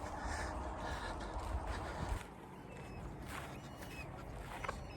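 Crows caw faintly in the distance near a reservoir while buzzards harass them, giving a few scattered harsh calls over a soft outdoor wind background.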